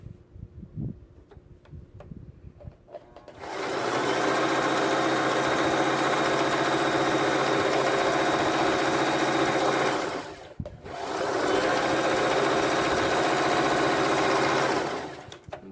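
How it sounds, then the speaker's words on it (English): A sewing machine stitches one side of a folded fabric square, running loud and steady at a fast whir for several seconds. It stops briefly, then starts again, with light clicks before it begins. "I'm going to stitch one side of it up and down"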